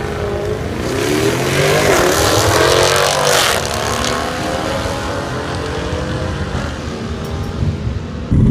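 Cars at a drag strip, including a Jeep SRT and Mustangs, roar close by as one engine revs and accelerates hard in rising sweeps, the loud engine noise continuing throughout.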